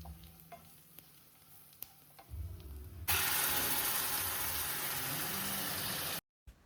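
Chopped shallots, garlic, a pinch of ginger and curry leaves hit a hot pan and sauté with a loud, close, sustained sizzle, preceded by quieter kitchen clatter and stirring before cutting off abruptly.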